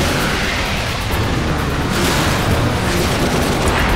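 Missile strikes in a video game shake the scene with a continuous, loud rumbling roar of overlapping explosions, a dense wall of booming noise with no pauses or speech.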